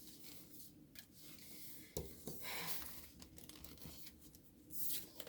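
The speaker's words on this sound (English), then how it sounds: "I'm gonna shuffle that and pull out a possible outcome for you guys" Tarot card deck shuffled by hand, a faint papery riffling and crinkling with a few sharper slaps of cards, close and quiet with no talking.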